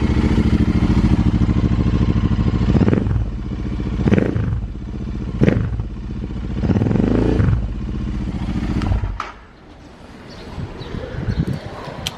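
An Interceptor 650 motorcycle with an AEW exhaust roars loudly, its engine revved in several rising sweeps toward 4000 RPM before dropping to a lower idle, heard up close.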